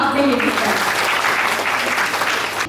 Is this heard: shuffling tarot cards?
no